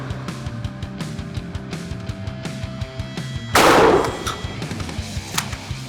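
A Franchi shotgun loaded with double-aught buckshot and a modified choke fires a single loud, close blast with a short ringing decay, after a stretch of steady outdoor background noise at a range.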